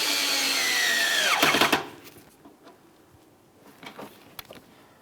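A power driver spins in a Phillips head mounting screw on a 2006-2012 Ford Fusion bumper cover and grille panel; a short whirring burst winds down in pitch and stops, followed by faint clicks and handling sounds.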